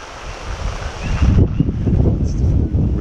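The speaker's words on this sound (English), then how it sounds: "It's definitely rainy and windy." Wind from Hurricane Lane buffets the microphone in Leilani Estates at dawn, a rough gusting roar with rain noise that swells after the first second and stays loud.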